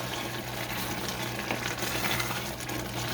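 Butter melting in a pan over low heat while being stirred, giving a soft, continuous sizzle with faint scraping under a low steady hum, no voices.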